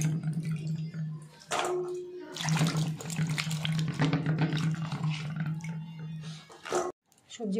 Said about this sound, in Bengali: এবার সবজিগুলো ধুয়ে নিই।